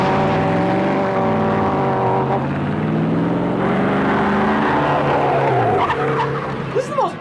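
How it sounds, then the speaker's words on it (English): Film car chase with tires squealing and skidding loudly in long sweeping wails over engine roar, followed by a crash-like clatter near the end, with people talking over it. "This is the most awkward car chase of all time"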